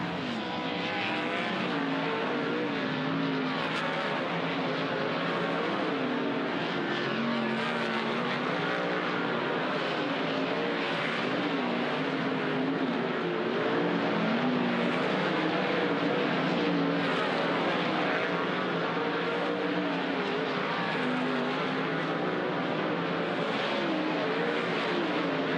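High Limit dirt track sprint cars race at Grays Harbor Raceway, a loud, continuous roar of several engines with rising and falling pitch as the pack circles the track.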